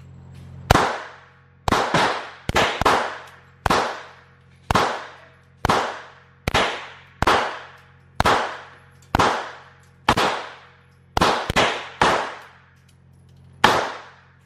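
Single gunshots at a shooting range, about fifteen loud, sharp close reports fired one at a time at a steady pace, some spaced in quick pairs, each ringing off briefly.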